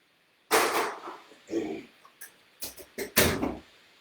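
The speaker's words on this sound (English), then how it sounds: "So let me close the door so I can focus" An indoor door is shut in a home, giving a handful of sharp knocks and rattling thumps spread over a few seconds, close and fairly quiet, with no voices.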